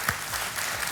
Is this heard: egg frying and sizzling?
no